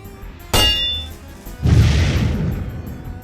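An exploding-chain sound effect: a sharp metallic clang rings out, followed a second later by a deep booming burst that rumbles and fades.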